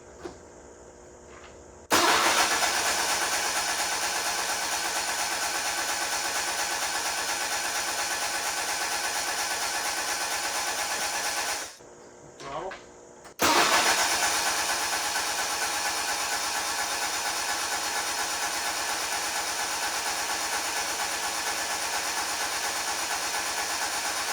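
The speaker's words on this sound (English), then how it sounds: "That starter freaking rips." Starter on a 1978 Sears GT18 lawn tractor that sat eight years in a barn cranks the engine in a loud, fast, close whirring grind for about ten seconds, pauses briefly, then cranks hard again.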